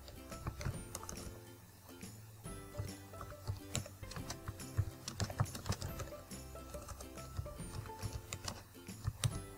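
A file name is typed on a computer keyboard, giving a quick, quiet run of clicking keystrokes in an uneven rhythm with no talking.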